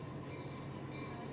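Train passing near a police press conference about the Sullivan siblings search, a steady low rumble with faint high squeal, continuous and moderately distant.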